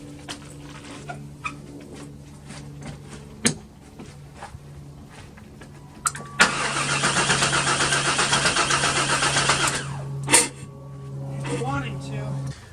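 A 1996 Chevy Tahoe engine cranks with a choppy starter rhythm, then roars loudly to life for about three seconds before cutting out, with a steady hum and chatter around it.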